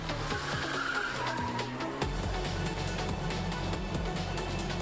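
Racing cars skid in a motorsport video game trailer, with continuous engine roar and screeching tire squeals over a steady music-like bed, one sharp accent midway.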